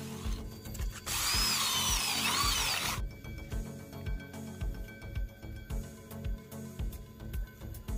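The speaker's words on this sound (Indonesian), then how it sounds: "ini adalah proses pengeboran untuk pemasangan dinapol" Drill boring holes in a steel door frame for anchor fittings, a loud high grinding whine lasting about two seconds over a continuous rhythmic mechanical rattle, close by.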